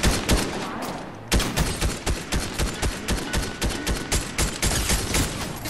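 Rapid gunfire in a video game crackles in a steady repeating burst of loud close shots, briefly pausing once before continuing, with no talk over it.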